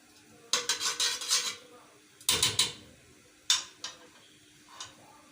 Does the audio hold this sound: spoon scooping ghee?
yes